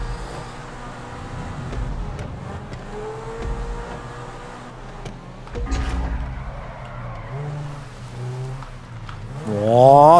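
Race cars roaring through an online GTA V race: steady engine drone with rising and falling pitch, occasional tire skids, and a loud, revving acceleration surge near the end, with no talk.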